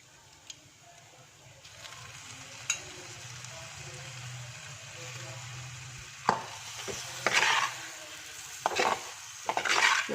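Mussels tossed into a hot pan for a Kerala-style stir-fry give a low steady sizzle, then louder scraping stirs and utensil clatter in short bursts toward the end, close by with no talk.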